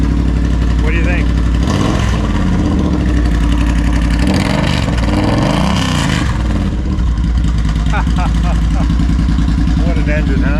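A Triumph Bonneville Speedmaster 1200 motorcycle engine idling at about 1300 rpm, a steady low throbbing rumble up close, with a few brief revs and someone talking over it.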